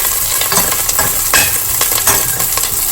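Brinjal sautéing with curry leaves and green chillies in a pan, a loud continuous sizzle broken by repeated scraping strokes of the spatula as the pieces are turned.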